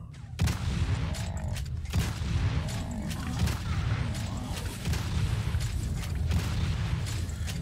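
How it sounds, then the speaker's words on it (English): Double barrel shotgun blasts in the Doom video game, heavy booming shots repeating at a steady pace over a dense, loud mix of game noise and mechanical clatter. "And straight into the double barrel shotgun."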